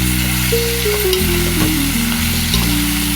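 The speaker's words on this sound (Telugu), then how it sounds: "ఒక 10 నిమిషాలు లో ఫ్లేమ్లో మగ్గితే చిక్కుడుకాయలు బాగా వేగుతాయి" Flat beans frying in a covered pan, with a loud, dense, continuous sizzle heard up close and without any voices, while a steady hum sits beneath the frying.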